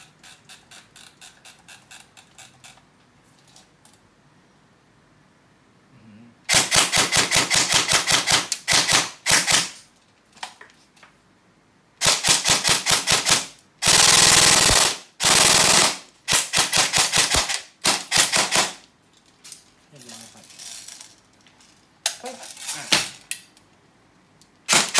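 A modified E&C 603 BB gun fires in full-auto bursts, several loud rapid mechanical rattles of a few seconds each separated by quiet gaps, recorded up close indoors.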